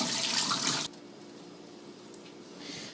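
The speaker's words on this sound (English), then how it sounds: "what you want to do is you want to drain it out of the water." Soaked basmati rice draining out of its water in a kitchen: a loud, dense rush of pouring water for just under a second, then cutting off to quiet, with a faint trickle swelling again near the end.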